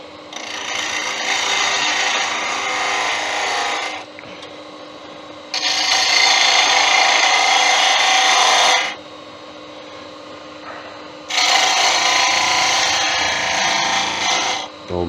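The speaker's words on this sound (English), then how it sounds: "Do another slight cut top of that one. And there with detail gouge." Detail gouge cutting wood on a lathe while turning a wooden sword, a loud hissing, rasping scrape in three long passes of several seconds each, separated by the quieter hum of the spinning lathe.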